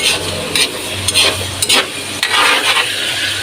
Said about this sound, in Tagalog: ginisa na po siya sa bawang at sibuyas